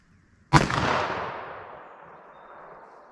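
A single loud gunshot from a .357 Magnum revolver with a 4-inch barrel, fired single action with Winchester 110 grain loads at an outdoor range, a sharp crack followed by a long fading echo.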